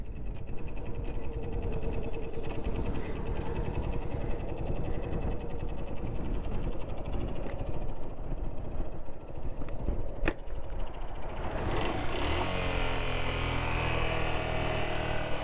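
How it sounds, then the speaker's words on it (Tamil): A vehicle engine whines steadily at high speed on a road trip toward Kodaikanal, a droning buzz that holds for a long stretch and then shifts character near the end, loud and close with no talking. "ரொம்ப ஸ்பீடாக வந்து வண்டியோட சவுண்டு ஒரு மாதிரி மாறிடுச்சு"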